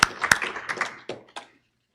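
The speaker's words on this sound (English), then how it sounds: "let's give them a round of applause" A small group at a Rotary Club of Des Moines meeting giving a short round of sparse, close hand claps, a few quick irregular hits that thin out and stop after about a second and a half.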